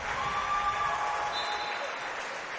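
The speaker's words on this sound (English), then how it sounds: "Aiden will get a round of applause," A high school boys basketball crowd gives a player a short round of applause, a steady wash of clapping in the gym that fades slightly toward the end.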